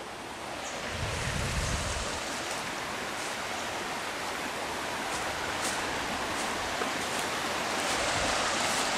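A river flows past a wet meadow, giving a steady broadband rush of moving water that stays even and fairly close throughout, with no voices.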